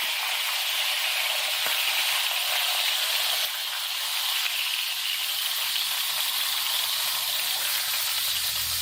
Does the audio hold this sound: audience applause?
no